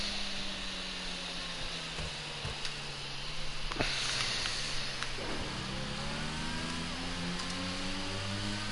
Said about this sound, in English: You can hear that engine of the D8 just behind us